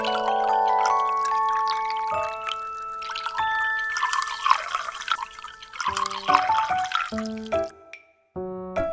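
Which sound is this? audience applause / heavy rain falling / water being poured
water being poured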